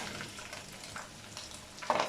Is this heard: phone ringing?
no